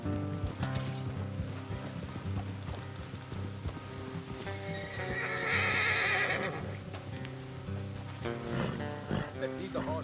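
Horses in the Red Dead Redemption 2 video game neigh and whinny loudly over clip-clopping hooves, with voices talking throughout.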